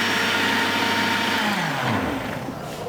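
A kitchen blender purees hot Spanish cream soup, a loud steady motor whir whose pitch drops as it slows toward the end, heard alone without talk.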